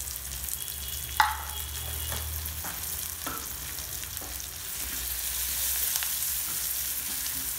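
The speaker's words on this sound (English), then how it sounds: "And fry everything so that the masalas are also well cooked in the oil and the onions also become quite soft and fried" Masalas and onions with salt and hing frying in oil in a pan, a steady broadband sizzle with occasional stirring clinks, moderately loud and continuous with no talking.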